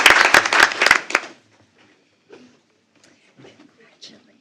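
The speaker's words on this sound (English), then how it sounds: "Let's give these guys a big round of applause." Audience applause at a school board meeting. A short, loud burst of clapping opens and stops after about a second, followed by scattered quiet voices and faint sounds.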